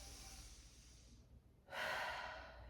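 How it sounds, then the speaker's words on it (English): A deep inhale during a gentle yoga session, a soft breathy intake that swells suddenly after a quiet pause and then fades, close and alone. "Deep inhale."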